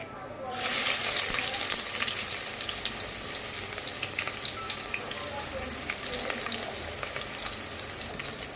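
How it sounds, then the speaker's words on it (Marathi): Hot oil bursts into a loud, bright sizzle as a tempering with crushed garlic is dropped in for crab curry, then crackles steadily and close for several seconds. "आता आपण त्याची फोडणी घालूया"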